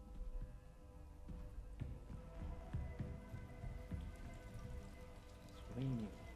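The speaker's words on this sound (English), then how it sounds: "It's raining." Steady rain patters outdoors as a soft, continuous hiss, with scattered drips landing on nearby surfaces and a low hum running underneath.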